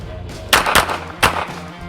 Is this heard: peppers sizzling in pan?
no